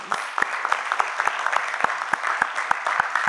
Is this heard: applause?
yes